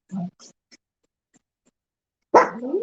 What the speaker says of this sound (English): I gotta talk to you because you're barking